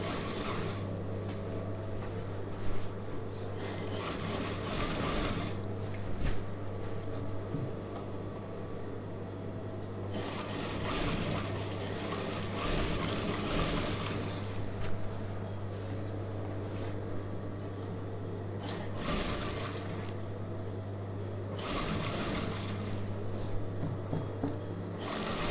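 A sewing machine stitches a star-neck chudidhar, giving a steady, close mechanical whir that runs almost the whole time with a couple of brief breaks, and no voices over it.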